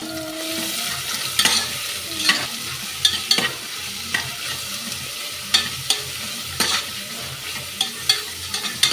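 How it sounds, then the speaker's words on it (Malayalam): Chopped onions sautéing in a pan for vegetable biryani, a continuous close sizzle broken by repeated scraping and knocking strokes of a stirring spoon, with no talking. "നമുക്ക് അരിഞ്ഞു വെച്ചിരിക്കുന്ന സവോള ഇടാം. സവോള ഒന്ന് വഴന്ന് വരുമ്പോൾ ക്യാരറ്റും ബീൻസും ഇടാം."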